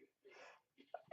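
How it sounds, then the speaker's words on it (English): A single loud, close human sneeze bursts out abruptly after near silence, preceded by a faint sharp intake of breath. "I'm going to sneeze on camera."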